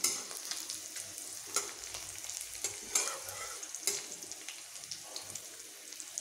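Whole tempering spices fry in hot oil, a quiet crackling sizzle broken by repeated sharp pops and spatters at irregular intervals, with no talking.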